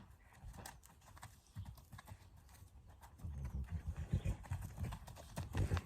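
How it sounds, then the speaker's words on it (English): Soft hoofbeats and clip-clop of a horse moving nearby, growing louder and heavier toward the end, with faint rustling around. "I got a horse across the fence that won't leave us alone."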